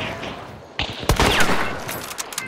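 Gunfire in the video game Hunt: Showdown: a few sharp shots crack out, one loud near blast followed by scattered fainter reports fading into ambient game noise.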